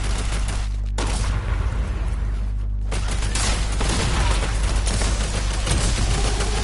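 Airstrike explosions pound a zombie horde in a video game, a dense, continuous barrage of booms and gunfire-like blasts, loud and close, with a brief exclamation from a player.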